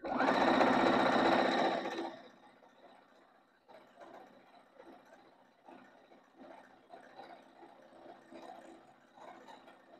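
Sewing machine stitching together pieces of up-cycled denim jeans for a quilt, a loud close run of rapid stitching for two seconds, then quieter intermittent mechanical ticking and whirring.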